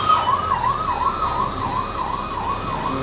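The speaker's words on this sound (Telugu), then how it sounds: "అంబులెన్స్ వస్తుంది వెనకాల సైడ్ ఇస్తానికి ప్లేస్ లేదు" A wailing ambulance siren in city traffic in Aizawl sweeps steadily up and down, loud and continuous, with a low engine rumble underneath.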